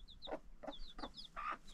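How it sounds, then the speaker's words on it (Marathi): A chicken in a Konkan village at Sangameshwar gives soft, repeated clucks in short bursts, faint and a little distant, with thin chirps of small birds scattered between them. "कोंबडी"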